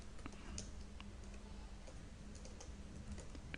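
Computer keyboard clicking in a quiet room, a short run of light, irregular keystrokes typing a command, faint and close with a little background hiss.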